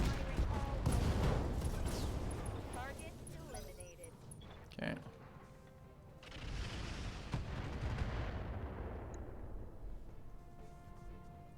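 Mechs unloading all their weapons at point blank range in the Battletech video game with the Roguetech mod, a dense burst of booming shots and impacts that trails off into rumbling explosions, with a player talking at times.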